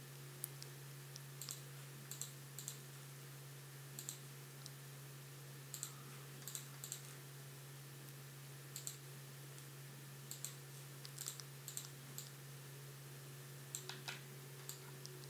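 Mouse clicks while placing topology dots in ZBrush, sharp quiet clicks arriving singly and in quick pairs at irregular intervals over a steady low electrical hum.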